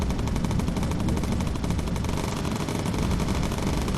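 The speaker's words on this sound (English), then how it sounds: "A blaze of bullets. None of them hitting, but it looks nice." Sustained machine gun fire from a bomber gunner's turret in the Bomber Crew video game, a dense unbroken stream of rapid shots running loud and steady for the whole stretch.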